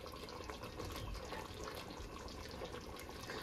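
Thick sauce from two jars poured into a pot while cooking, a steady wet glugging and splashing that runs unbroken, close and moderately loud, with no talk.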